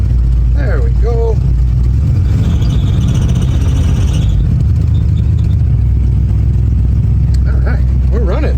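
A van's engine, recently troubled by a mechanical fuel pump problem, runs loud and close with a rough, rumbling idle and some rattling, while people talk briefly over it.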